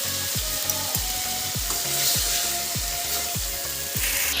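Fiddlehead fern greens fry in a pan with a steady, close sizzling hiss that runs unbroken throughout, along with a low, regular rhythmic pattern beneath it.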